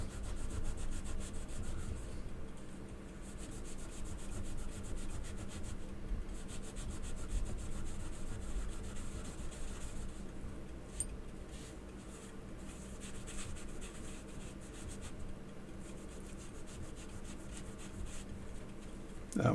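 Coins rubbed with a towel and PEEK polish, a close, continuous dry scrubbing and rasping in steady back-and-forth strokes, with occasional small knocks and no talking.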